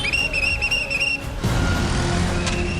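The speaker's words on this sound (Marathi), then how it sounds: "एक खास शिट्टी तयार केली आहे" A specially made smart police whistle gives a shrill, wavering tone for about a second, then traffic noise rumbles on with a brief sharp chirp near the end.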